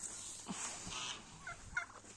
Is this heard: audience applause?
no